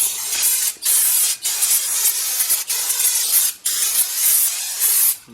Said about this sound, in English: just use a good coat of brake cleaner